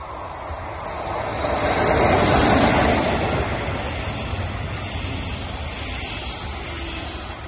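A regional express train from Fulda to Frankfurt passes Schlüchtern station, a broad rushing rumble that swells to a peak and then slowly recedes.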